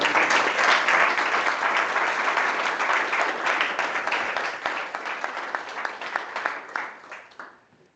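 A crowd applauding, dense steady clapping that gradually thins and fades out toward the end.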